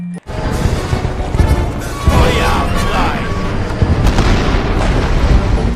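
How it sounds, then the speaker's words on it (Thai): A loud, sustained rumbling blast with crashing debris, continuing for several seconds with dense low booms; excited voices can be heard underneath. "น่าจะระเบิดตุ้มเลย"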